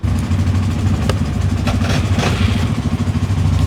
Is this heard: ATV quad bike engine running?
yes